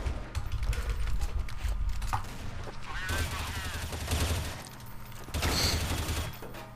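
Video game gunfire in dense bursts of rapid shots and mechanical clatter, loud and continuous, with a voice speaking over parts of it.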